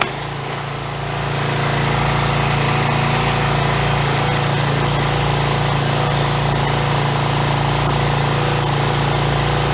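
A pressure washer feeding a cheap dustless sand blaster starts up and runs with a loud, steady motorized buzz and hum close by, unbroken throughout.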